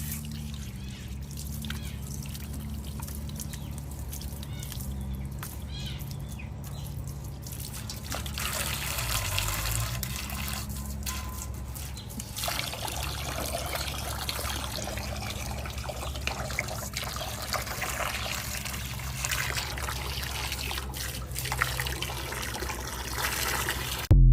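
Water trickles and dribbles steadily into a container for the whole stretch, a continuous close splashing with slight swells in intensity and no voices.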